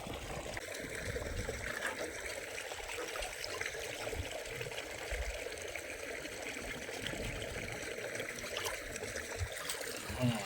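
Water flows steadily from an irrigation pipe onto a cumin field, a continuous trickling, splashing wash that holds at a fairly even level for the whole stretch, with low rumbling underneath and no talk over it.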